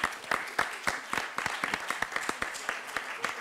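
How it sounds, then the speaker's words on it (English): Audience applause at an art, design and science conference session, a steady patter of individual claps from a modest crowd, fairly near and moderately loud, with faint voices underneath. "we give a round of applause to Christina"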